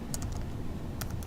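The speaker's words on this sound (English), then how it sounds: "and then you keep typing" Keyboard typing at a computer, a few quick clustered keystrokes at close range, clicking sharply over a low background hum with no voices.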